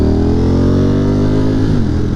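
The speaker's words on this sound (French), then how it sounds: "belle moto" A motorcycle engine drones loud and close on the road, its steady harmonic hum sliding slightly lower as it passes, heard alone without speech.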